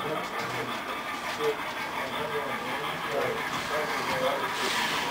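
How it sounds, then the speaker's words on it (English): A model railroad train runs along a layout representing Martinsville, Virginia, with a steady low rumble and faint clicking throughout, while people talk nearby. "We'll watch train 21 arrive."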